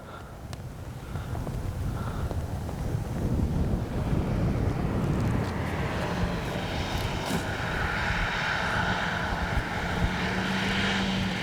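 A Hangar 9 Valiant 20cc gas RC airplane engine runs at about quarter throttle over a grass field, a steady droning hum under heavy wind rush across the microphone.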